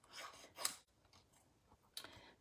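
Scissors roughly cut through paper for a handmade card, a few quiet close snips and rasping slices separated by short pauses.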